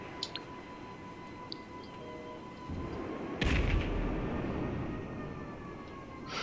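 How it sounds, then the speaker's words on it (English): A heavy low boom from a bomb detonation in the video game GTA 5 Online, arriving partway through over a background tone and rumble, then rolling out slowly. "I said detonate the bomb."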